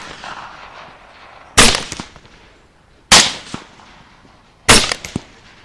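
Three loud rifle shots fired at wild hogs on a hunt, evenly spaced about a second and a half apart, each a sharp close crack followed by a short rolling echo, with quiet outdoor ambience between.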